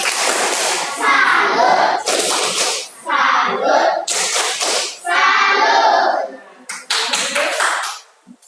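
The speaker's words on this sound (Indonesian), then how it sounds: "Tepuk salut dulu sama mereka." Rhythmic group clapping from a classroom of children, coming in loud bursts of patterned claps with short pauses between them, with children's voices mixed in.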